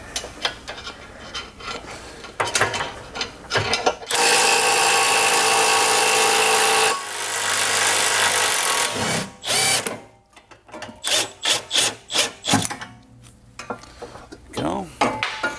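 Metallic clanks and a burst of power-tool whirring as the camber arm comes off an S550 Mustang's rear suspension in a garage, with scattered close knocks and ratcheting before and after the sustained tool noise.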